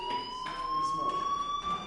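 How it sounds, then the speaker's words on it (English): Electronic fire alarm sounding indoors, a steady high-pitched tone held throughout with faint pulsing, moderately loud and alone. "Hey, do you hear that fire alarm? That means you should be outside."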